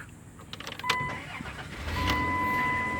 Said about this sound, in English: So the vehicle has been started